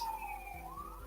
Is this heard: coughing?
no